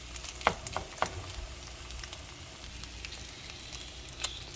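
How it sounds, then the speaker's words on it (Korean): An egg fries in a pan, its yolk pressed out, giving a steady low sizzle and crackle with a few sharper pops scattered throughout. "이렇게 지글지글 지글지글 익고 있습니다"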